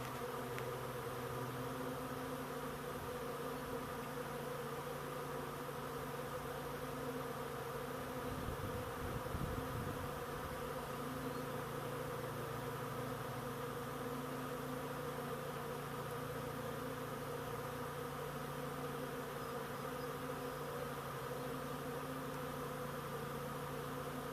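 A swarm of honeybees crowding the front of a swarm trap and the ground beneath it gives a faint, continuous droning hum that holds steady for the whole stretch, with no voices.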